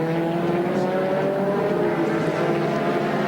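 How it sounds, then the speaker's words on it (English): Holden Commodore touring cars racing at the 1992 Bathurst 1000 make a steady, loud engine drone that holds constant without clear gaps or pass-bys. "The HRT Commodore comes through."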